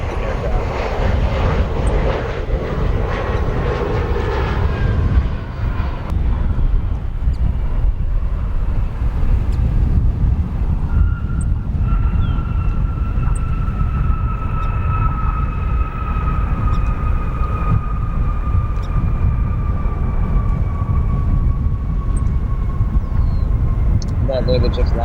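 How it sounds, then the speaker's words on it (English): A just-landed Embraer 175 regional jet at O'Hare International Airport sends a loud, continuous roar that fades from an early rush into a steady engine drone with a rising whine, while a voice speaks nearby. "That literally just landed an Embraer 175 LL from Tulsa, Oklahoma."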